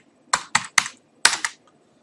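Computer keyboard typing CSS code: five quick, close keystrokes in two small clusters, crisp and alone, with no talk.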